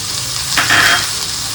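Peas, coarsely chopped carrots and capsicum hit a hot pan for upma with a sudden loud sizzle that swells for a moment, then settles back into a steady frying hiss.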